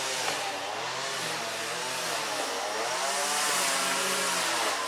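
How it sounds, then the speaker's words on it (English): Council workers trimming shrubbery outside with a powered cutter, a steady buzzing motor drone running continuously at moderate level in the background, with no talk. "It's the local council trimming the shrubbery out the back."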